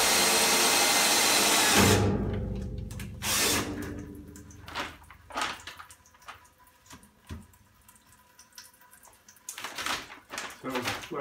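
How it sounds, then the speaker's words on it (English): A drill biting into a home heating oil tank being removed, a loud continuous whine for the first couple of seconds, then quieter scattered clanks, splashes and handling noises. "What I did is I drilled as low as I could"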